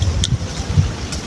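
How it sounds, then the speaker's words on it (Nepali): Wind rushing through a hillside jungle while wild kafal fruit is picked, a rumbling, buffeting gust close to the microphone with a couple of faint high ticks. "चिज नभनेको हावा चल्दो रहेछ"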